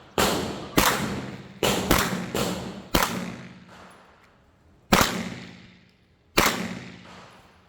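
Loud single gunshots from a CZ Scorpion at a firing range, fired at an uneven pace, a cluster of five quick shots followed by three more spaced out, each with a booming echo tail.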